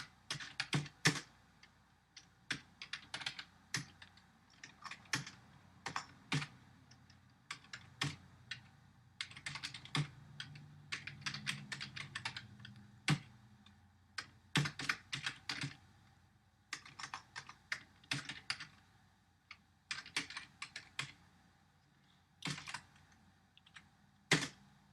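Fingers type steadily on a computer keyboard at close range, giving quick bursts of crisp key clicks with short pauses between them, alone with no voice.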